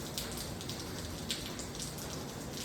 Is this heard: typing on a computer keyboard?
no